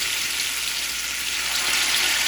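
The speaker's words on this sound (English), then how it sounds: "hear that sizzling? So all we have to do is just fry them 1 minute per side" Steady, loud sizzling of pork ribs frying in a hot pan, a constant crackling hiss throughout with no talking.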